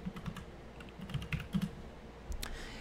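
Keys clatter on a computer keyboard in a short, uneven burst of typing that breaks off briefly, then resumes, quiet and close, as a search for Netflix is entered on a Windows 10 desktop.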